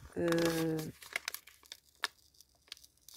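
A coffee-tinted envelope is opened, with close, soft crinkling and tearing of paper in short scattered bursts after a brief tone at the start.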